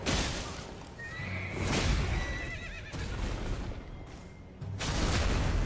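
A horse in the Elden Ring video game lets out a drawn-out, wavering neigh, loud and close, amid combat effects, thuds and the clatter of a fight, with no talking over it.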